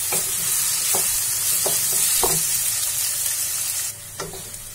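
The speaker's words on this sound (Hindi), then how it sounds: "इसे 2 मिनट के लिए हम भून लेते हैं।" Vegetable manchurian fries in a pan with a steady bright sizzle, while a spatula scrapes and stirs it in several sharp strokes. No one speaks.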